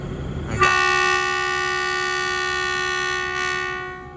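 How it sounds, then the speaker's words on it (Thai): An Alstom diesel locomotive, number 4130, hauling express train 84 from Trang to Bangkok at Surat Thani station, sounds one loud, sustained horn blast that holds steady for several seconds, over a low rumble. "ขบวนรถด่วนที่ 84 ตรังกรุงเทพ ทำขบวนโดยรถจากอัลสตอม4130 เตรียมพร้อมที่จะออกจากสถานีสุราษฎร์ธานีแล้วครับ"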